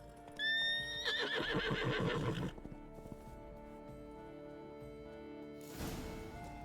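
In the video game Witcher 3, a unicorn lets out a clear whinny that rises and trembles for about two seconds. Quieter snorting and hoof sounds follow, then a brief breathy burst near the end.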